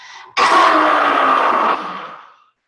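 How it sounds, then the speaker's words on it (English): One loud, close, harsh cough or throat-clearing burst from a person during a chair exercise class, lasting about two seconds and fading out. "That made me cough."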